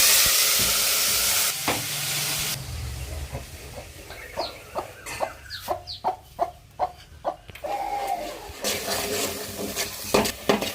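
Coconut paste with ginger drops into hot oil for a mutton curry, giving a loud, bright sizzle for the first couple of seconds before it fades and chickens cluck close by.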